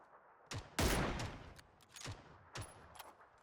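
Several separate gunshots in PUBG, one big close crack followed by lighter, spaced shots at irregular intervals against a quiet background.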